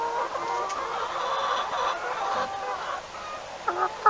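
Laying hens in a flock of layer-breed chickens cluck steadily at close range, with overlapping calls and a few sharper squawks near the end.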